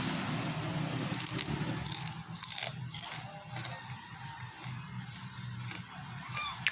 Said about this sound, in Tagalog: Super lutong ng ating daing na maliliit.